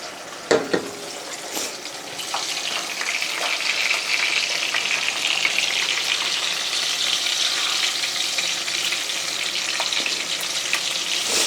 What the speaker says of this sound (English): Cooks those eggs like you wouldn't believe. Fries them sunny side up.